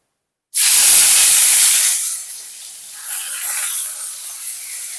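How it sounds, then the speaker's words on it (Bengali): Chopped onion dropped into hot oil bursts into a loud, sharp sizzle that settles after a couple of seconds into a steady, softer frying hiss, with no talking. "পেঁয়াজটাকেও একটু হালকা করে ভেজে নেব"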